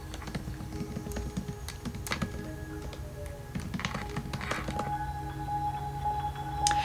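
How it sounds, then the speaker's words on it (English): Fingers type on a computer keyboard in quick, irregular bursts of light taps and clicks. The sound is close and fairly quiet over a faint background hum, and nobody speaks. "Email address, type that in."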